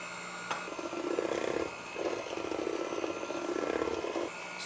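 An electric mixer whirs on low speed through cake batter for a Trinidadian sponge black cake, running in steady bursts with brief pauses between them, close and moderately loud with no speech.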